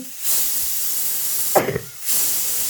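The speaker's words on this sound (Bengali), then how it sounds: "কুকারে ঢাকনা লাগিয়ে আমি গ্যাস অন করে দিয়ে দিলাম তিন চারটি মতো সিটি দিয়ে দিলাম" A pressure cooker on a gas stove lets off steam in two strong, broad hissing bursts separated by a brief lull, loud and close with no speech.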